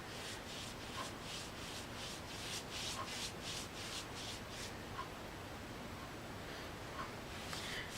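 Dark walnut stain is rubbed smooth across a wooden noodle board, making soft, rhythmic swishing strokes that are quiet and close, with no voices.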